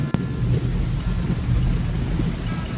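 Steady evening rain with a low thunder rumble rolls on continuously, a dense, even hiss over deep booming beneath, with no voices.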